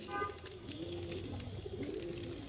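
Pet pigeons in a home loft coo softly in a steady, low, continuous murmur, heard faintly at a distance with a little background noise.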